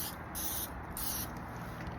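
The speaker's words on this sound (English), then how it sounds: "I'm going to spray the bone side first," Light olive oil sprayed from a bottle onto the bone side of a rack of ribs as a binder, two short faint hissing bursts over a quiet background.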